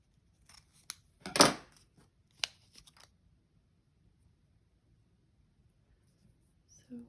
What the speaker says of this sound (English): I have 2 layers of fabric here, so while I'm at it, I'll just cut